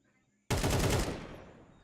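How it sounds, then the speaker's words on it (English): AK rifle fire in the Crossfire video game during a competitive match; a sudden loud, dense burst of automatic gunfire that fades over about a second and a half. "And Sweet Tea with the AK kill"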